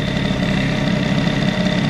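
Car engine idling steadily as it warms up, a continuous low rumble with an even, unbroken hum throughout, close and fairly loud with no voices.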